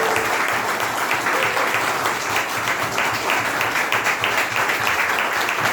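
Steady audience applause from a crowd greeting the head of a legal reform body, dense and continuous throughout with no voices over it.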